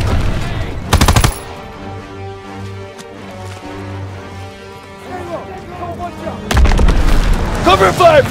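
Bursts of gunfire in a Call of Duty: WWII battle, a loud burst near the start and another toward the end, with game music and shouted voices filling the stretch between.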